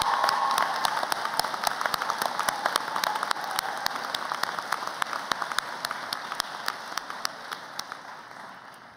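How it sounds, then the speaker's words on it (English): A high school graduation audience gives a sustained round of applause, many hands clapping close together in a dense patter that gradually fades. "Let's give a round of applause to those who were there for you through the last 13 years."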